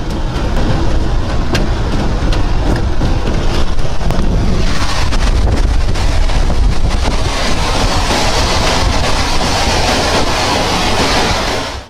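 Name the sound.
violent tornado wind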